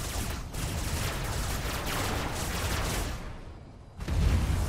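SMG fire in the video game Robocraft, a dense continuous rattle of rapid shots that thins near the end before a louder burst returns.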